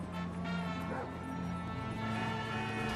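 A dog barks and yips in GTA V gameplay during a chase, with short repeated bursts over a dense, steady game background and faint voices mixed in.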